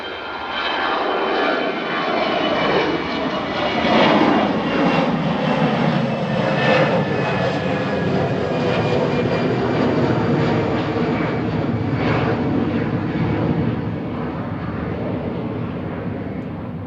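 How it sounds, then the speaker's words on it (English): An easyJet airliner departs Manchester Airport bound for Palma de Mallorca, its engines a loud sustained roar that swells around the takeoff roll and slowly tapers toward the end, with no voices. "EasyJet departing to Palma de Mallorca with flight"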